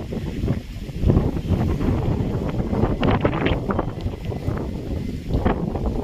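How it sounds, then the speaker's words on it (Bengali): Strong gusty wind ahead of Cyclone Remal buffeting the microphone, a loud, rough, continuous roar with surging bursts throughout. "আর এখানে কেমন হাওয়া হচ্ছে দেখো, যথেষ্ট হাওয়া হচ্ছে।"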